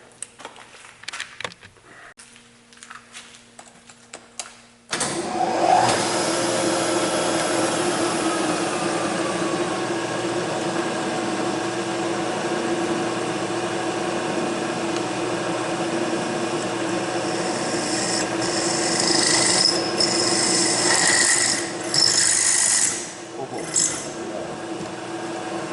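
A lathe fitted with a drill chuck bores a hole for a 1/4 inch bolt. Brief quiet clicks and handling sounds give way to a continuous steady machine whir that runs for about twenty seconds, with a faint tonal hum throughout.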